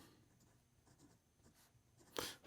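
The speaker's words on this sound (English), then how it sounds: "Here we go with the writing sample for the Montblanc" A Montblanc Enzo Ferrari fountain pen with a medium 14 karat gold nib writes on paper, giving very quiet, soft scratchy strokes with a brief louder scrape near the end.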